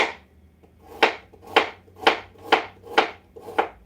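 Carrots are sliced thin with a knife on a cutting board, giving seven crisp, evenly spaced chops in a steady rhythm, close and clear with no talk.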